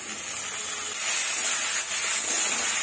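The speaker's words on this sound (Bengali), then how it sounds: "আমাদের মশলাটা কষা হয়ে গেছে, টমেটো কুচিগুলো দিয়ে দিচ্ছি" Chopped tomatoes hit a pan of ginger, garlic and chilli spice paste, setting off a steady, fairly loud hissing sizzle that swells slightly after the first second, with no voices.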